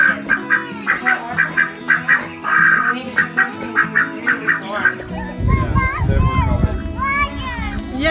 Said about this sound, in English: You following the duck? Stay. Oh, Uh-oh. the duck. Yeah, he's going to the water.